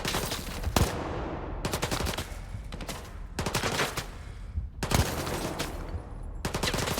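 Loud, close automatic gunfire in the post-apocalyptic shooter STALKER 2 comes in several long rapid bursts separated by brief pauses, with no talking over it.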